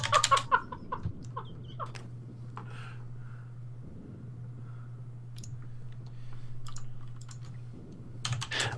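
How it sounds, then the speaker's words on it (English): Someone types on a computer keyboard in quick, scattered bursts of light clicks over a low steady hum, with short pauses between the runs of keystrokes. "Dude, I'm trying to type quietly, like. Constant typing."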